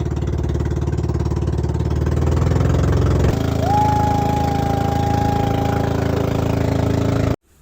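A small boat's engine runs steadily at night on the crossing to Gimao, Tingloy, Batangas, a loud close chugging drone with a rapid even pulse that cuts off abruptly at the end.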